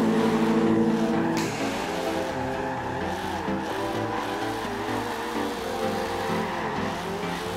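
A Ford Lotus Cortina drift build in Forza Horizon 2 runs its engine steadily and loudly for the whole stretch, with tire squeal mixed in and no talking over it.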